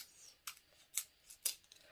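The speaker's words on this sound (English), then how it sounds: "When you trim the leaves, use normal scissors" Ordinary household scissors snip at plant leaves during a trim, making three quick, crisp cuts spaced about half a second apart. The snips are close and fairly quiet, with no talking.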